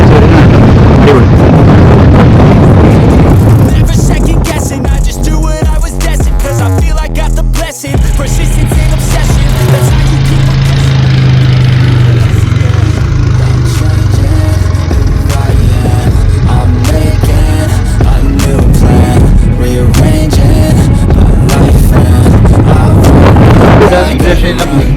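Strong coastal wind near Castle Point buffets the microphone in a loud, continuous roar, with a passing vehicle-like drone in the middle and no clear talk.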